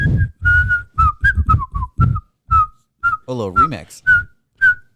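A man whistles a short tune in clipped, uneven phrases, pausing between notes and adding a warbling trill near the end, with a brief remark spoken between.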